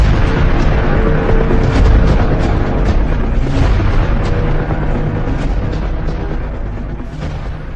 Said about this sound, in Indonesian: Ledakan ini menghasilkan ledakan besar, memicu hujan meteor, dan mengubah atmosfer planet kita.